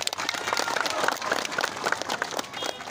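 A crowd applauds at a formal gathering with a speech honouring the South Buru regent: dense, steady clapping fills the whole stretch at moderate loudness.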